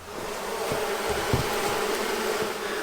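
Honey bees buzz steadily around an indoor room during a honey harvest, a dense continuous hum at close range with occasional louder passes near the ear.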